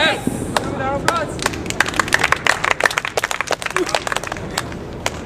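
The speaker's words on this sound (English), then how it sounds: "Round of applause." Audience applause at a live comedy show, crisp scattered claps from a small crowd that start sparse, build into a busy patter, then thin out, with some voices murmuring underneath.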